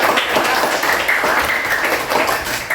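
A class of children claps together in a classroom, a dense, even burst of applause lasting a few seconds at close range.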